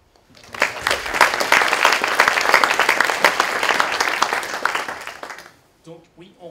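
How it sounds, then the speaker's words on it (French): Sustained audience applause fills the room after a DevOps conference talk, dense steady clapping for about five seconds before it fades and a voice resumes speaking. "On peut peut-être l'applaudir."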